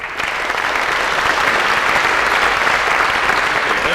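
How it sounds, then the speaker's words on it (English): A large audience at a 1993 university convocation ceremony applauds loudly and continuously, a dense, even wash of clapping that fills the hall with no break. "Let's give one more round of applause to our new faculty members."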